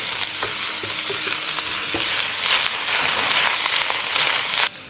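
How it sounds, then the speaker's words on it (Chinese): Brussels sprouts and smoked tofu with garlic and onion stir-fry in a wok, a loud dense sizzle with clattering scrapes of a spatula and occasional sharp clicks, stopping abruptly at the end. "我们把豹子橄榄和熏干一起放入"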